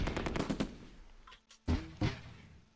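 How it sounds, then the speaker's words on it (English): Video game gunfire from Close Combat II, a WWII tactical game, sounds as a rapid rattle of machine-gun shots followed by a few louder, separated single shots over a short moment. "it looks like there's shots coming from there"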